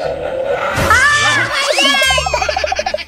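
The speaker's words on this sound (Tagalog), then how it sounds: "Nagugulat ako sa sigaw mo." An actress lets out a loud, high-pitched scream during a lie detector challenge, rising and falling, then breaking into quick, rhythmic bursts of laughter.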